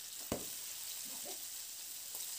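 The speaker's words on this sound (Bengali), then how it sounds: "লঙ্কাটা দিয়ে দেখুন নাড়াচাড়া করে লঙ্কাটাকে একটু ভেজে নিচ্ছি" Green chillies fry in a pan with a faint, steady sizzle. A single utensil knock and some quiet stirring scrapes can be heard as they are turned.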